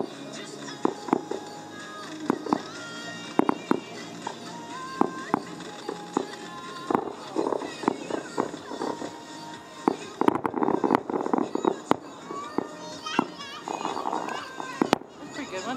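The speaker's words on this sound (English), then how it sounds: "fireworks, baby." July 4th fireworks crack and pop repeatedly for about sixteen seconds, sharp bursts scattered irregularly over a busy outdoor crowd, with people talking and cheering throughout.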